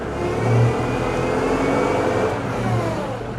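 Kubota L6060 tractor with hydrostatic transmission backing up in reverse, its engine a steady close mid-pitched drone that swells briefly early on, with no talk.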